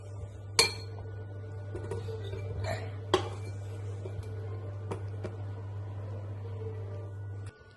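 A spoon stirs melting chocolate in a bowl set over a hot kettle, giving a few scattered metallic clinks and scrapes over a steady low hum.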